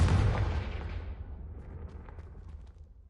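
Confringo fire spell blast in Hogwarts Legacy, a loud booming burst right at the start that quickly decays into a fading rumble and crackle, leaving faint scattered pops.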